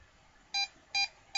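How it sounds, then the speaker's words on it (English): A Samsung device gives three short, evenly spaced electronic beeps, the kind of warning it makes when its batteries are dying, clear against a quiet background. "And then it beeps like the batteries are going dead."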